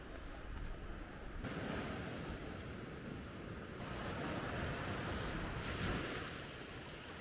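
Waves washing steadily onto a quiet, secluded beach in Nerja, Spain, a continuous rushing surf with a gentle swell midway and some wind across the microphone, no voices.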